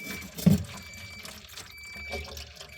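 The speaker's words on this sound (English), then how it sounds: "Look how it just goes down the drain." Water drains quietly down the drain of a Samsung RF260BEAESR refrigerator, with a brief soft gurgle near the start and a faint trickle afterward.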